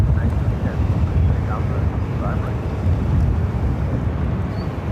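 Heavy airliner on its takeoff roll from runway 25 right at Phoenix Sky Harbor, a steady, loud low-end engine roar with wind buffeting the microphone throughout, constant and unbroken.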